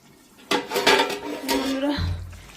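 A lid goes onto a pot of spicy chicken gizzard curry: a sudden metallic clank, a brief rattle of metal on metal, then a low settling rumble, close and moderately loud.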